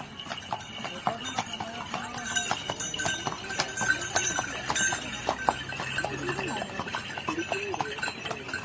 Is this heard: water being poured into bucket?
no